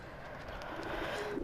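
A pigeon coos faintly in the video game Assassin's Creed, a soft low cooing over a quiet ambient background, with no speech.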